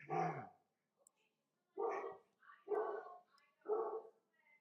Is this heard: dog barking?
yes